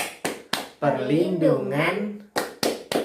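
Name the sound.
audience doing the rhythmic children's-rights clapping chant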